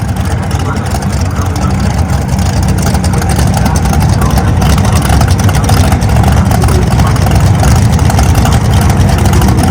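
A turbocharged big-block drag racing car engine drones steadily and loudly throughout at an NHRA drag race, a dense continuous roar with crowd and track noise mixed in.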